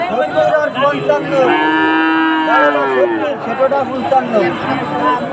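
A young calf at a village cattle market in Udaypur, Bagerhat, lets out a long, loud drawn-out moo close by, with people talking and a babble of voices around it.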